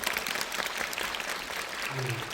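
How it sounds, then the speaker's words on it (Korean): A cinema audience at a film screening Q&A applauds the director, a steady faint wash of clapping with a voice speaking over it near the end. "아주 큰 도전을 무사하고 아름답게 마치신 감독님께 박수 한번 부탁드리겠습니다"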